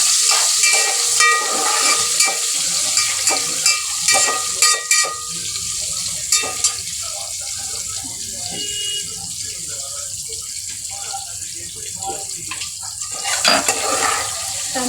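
Tomatoes sizzle in hot oil in a pan after chopped green chillies, part of a Marathi varan-bhaat and methi bhaji cooking session; a steady hissing fry continues throughout, with occasional clinks and someone speaking over it.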